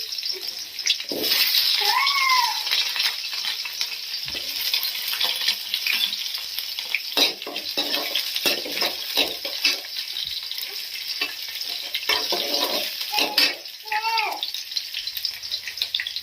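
Cinnamon, cloves and onion sizzle steadily in a hot pan for a mung bean curry, with a constant frying hiss and occasional stirring clinks and scrapes; a few faint high chirps cut in briefly.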